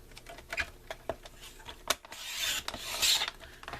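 Card stock is cut on the diagonal with a craft blade or trimmer, quiet scraping strokes in short bursts, then a longer, brighter rasping slice near the end.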